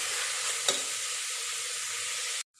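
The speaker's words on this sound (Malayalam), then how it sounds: "ഈ ചിക്കൻ്റെ ആ വെള്ള നിറമൊക്കെ പിങ്ക് നിറമൊക്കെ മാറിയിട്ട് ഒരു വെള്ള നിറം ആവുന്നത് വരെ ഇതിലിട്ട് ഇളക്കി കൊടുക്കാം." Chicken pieces and onions being stirred in a hot frying pan for Thalassery dum biryani: a steady, close sizzle and hiss with light scraping from the stirring, one brief clack, alone, ending abruptly.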